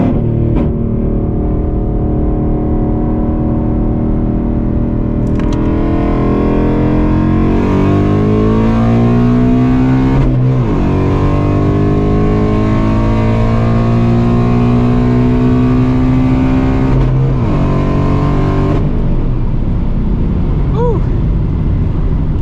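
A Ford S650 Mustang GT pulls hard down a drag strip, its engine note rising through the gears with brief dips at the shifts, loud and continuous from start to finish, with talking over part of it.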